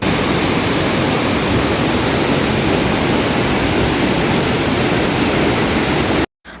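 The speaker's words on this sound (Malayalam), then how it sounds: "ഡാമിൻ്റെ രണ്ട് വശങ്ങളിലുള്ള ഷട്ടറുകൾ ചെറിയ രീതിയിൽ തുറന്നിട്ട് പോകുന്ന വെള്ളമാണ് കേട്ടോ ഇത്രയും" Water pours through the partly opened shutters on both sides of the Bhoothathankettu dam in a loud, constant, roaring rush, with no break until it cuts off abruptly near the end.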